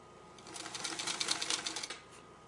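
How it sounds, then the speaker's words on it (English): A sewing machine stitches slowly through pinned quilt fabric for a curved patchwork seam, giving a soft, close, rhythmic patter of needle strokes that rises, holds for about a second and a half, then stops. "I'm going to sew slow enough that hopefully I won't catch my sewing machine needle on any of these pins and break my needle"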